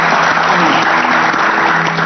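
An audience at a religious talk show applauds its guests, a dense, loud, sustained clapping from a crowd filling the whole brief moment.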